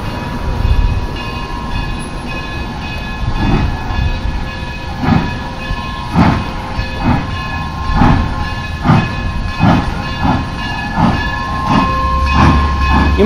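A Durango and Silverton railroad train departs during a railfest, its loud rhythmic chuffing pulses repeating steadily over a continuous mechanical drone, close by and without talk.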